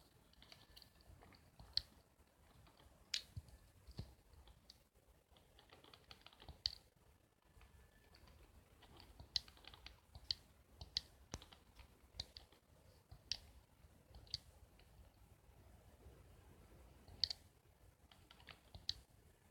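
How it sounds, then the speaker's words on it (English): Quiet, irregular typing on a computer keyboard, with soft clustered key clicks and occasional sharper taps, close by and alone. "Just typing it in now"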